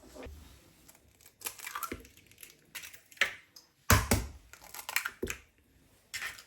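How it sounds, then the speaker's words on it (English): Two eggs cracked into a large bowl while making a ricotta and spinach slice filling, heard as sharp close cracks and crunchy shell taps with a wet splat, spaced across a few seconds in a quiet kitchen. "So into a big bowl, you're going to crack your 2 eggs."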